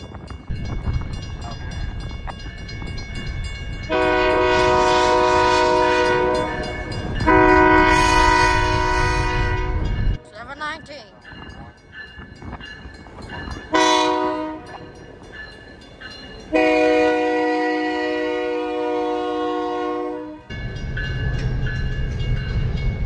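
An Iowa Interstate passenger train, locomotive 7000 with passenger and dining cars, rumbles past close by on the Rock Island Bridge while a loud, multi-tone horn blasts in several long bursts, the rolling noise continuing between blasts.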